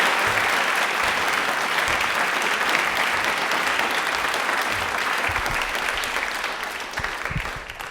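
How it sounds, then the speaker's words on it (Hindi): Loud, sustained audience applause at a Doordarshan Rajasthan studio quiz event on Indian Railways, dense clapping from a crowd that tapers slightly toward the end. "प्लीज एक बार तालियां एक बार जोरदार हो जाएं"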